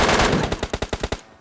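Rapid automatic fire from an M4 rifle in the mobile shooter PUBG Lite crackles in a dense burst, followed by about seven separate loud shots in an even rhythm before the firing stops.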